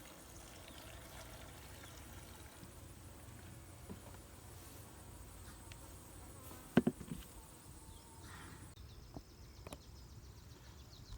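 Honey bees buzz in a low, steady outdoor hum around hives being fed sugar syrup, with a few faint clicks and knocks and no talk.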